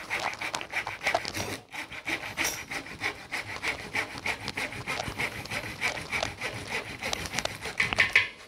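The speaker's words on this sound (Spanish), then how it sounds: "Entonces hay que cortar esta punta con una segueta, una caladora, con lo que tengan a la mano." A jigsaw cuts through the tip of a wooden branch with a rapid, continuous rasping buzz, up close and loud with brief pauses.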